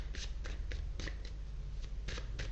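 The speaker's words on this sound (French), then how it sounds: "Alors, je vais poser toutes les cartes." Tarot cards laid out one after another on a table, giving a series of soft, quick slaps and slides at a steady pace, close and quiet, with no voice.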